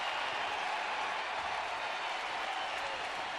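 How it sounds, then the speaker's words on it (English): A sellout baseball crowd at the Cleveland Indians' home opener rising to its feet, a loud, steady wash of applause and cheering sustained throughout. "This sellout crowd up on its feet."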